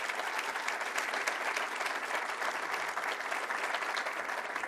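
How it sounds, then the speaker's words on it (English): Steady, dense clapping from a large crowd at a government press event, sustained at an even level throughout with no break. "Let's give them another round of applause as well."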